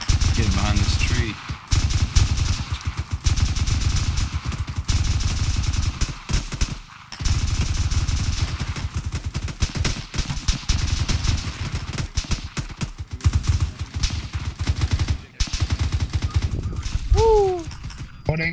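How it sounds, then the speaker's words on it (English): Dense gunfire and sustained machine gun bursts from an ArmA 3 battle, with tracer fire coming from a field, roar loud and nearly continuous, with brief lulls. Voices talk over the shooting. "we're taking tracer fire from the field, bearing 150"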